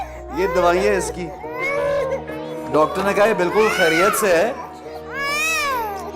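A young girl's crying and wailing in a drama scene, rising and falling in loud continuous bursts while adults talk over it.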